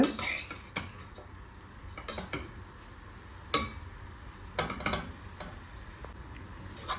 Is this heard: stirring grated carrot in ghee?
yes